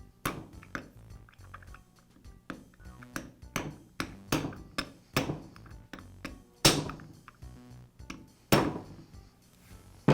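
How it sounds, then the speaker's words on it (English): A socket struck with a mallet drives a bearing into the gear housing of a Milwaukee angle grinder, making a string of close, sharp metallic taps at irregular intervals, some harder than others. "I'll use a socket and mallet to tap it into place"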